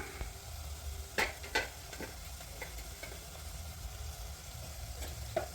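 Onion, garlic and green chilli fry in a pan with a quiet, continuous sizzle, broken by several clicking stirs and scrapes of a spoon against the pan; nobody speaks.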